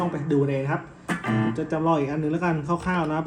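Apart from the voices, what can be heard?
None of the usual background noises is heard.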